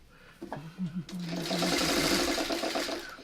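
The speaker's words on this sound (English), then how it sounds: "I'm just going to finish this pinwheel up by sewing the other way" A sewing machine stitches a pinwheel quilt block, starting with a few short stuttering bursts before settling into a steady rapid whir; a voice speaks briefly at the start.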